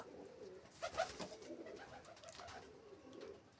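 Pigeons perched up high coo in low, soft, rolling phrases, fairly faint and somewhat distant, over a quiet background with no talking.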